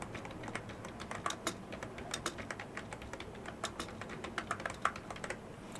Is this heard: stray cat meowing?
no